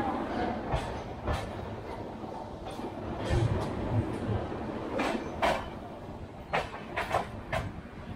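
The Jaipur to Delhi Double Decker Express rumbles along the rails as a steady onboard roar, with rhythmic clickety-clack wheel beats and faint squeals recurring throughout.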